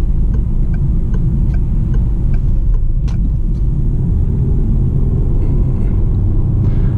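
A Citroen C4 accelerates briskly, heard from inside as a loud, steady low engine and road rumble with faint ticking clicks above it and no speech.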